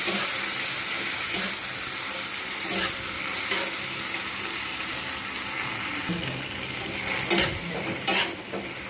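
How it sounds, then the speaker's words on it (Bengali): Bread pulao mixture being stirred in a pan, with a steady sizzle under repeated scraping and stirring strokes and a few sharper clinks near the end; no one speaks. "এটাকে এবার নাড়বো বেশ কিছুক্ষণ ধরে"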